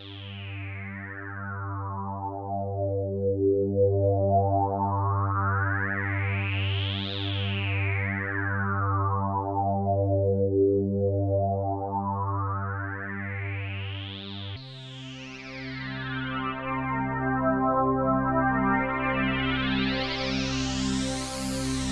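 Roland Alpha Juno 2 synthesizer playing its Sin Rise preset, a sustained tone whose resonant filter sweeps up and down in slow repeated arcs, then shifts to a brighter, denser rising sweep, loud and alone with no talking.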